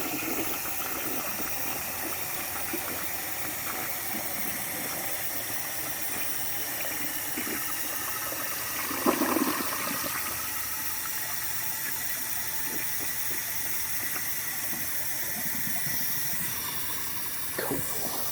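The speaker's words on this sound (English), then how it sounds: "Let me do another flush so you can see it from the tank" A vintage American Standard compact toilet flushes with a steady, loud rush of water that runs for the whole stretch, nearby and with no talk over it, and a brief gurgle comes partway through.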